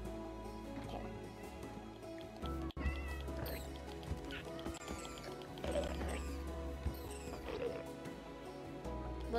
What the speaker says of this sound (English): There's a cat over here.